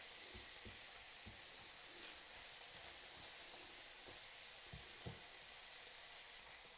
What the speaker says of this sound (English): I'm just going to keep breaking that beef into smaller pieces too while I'm cooking the onions and the celery.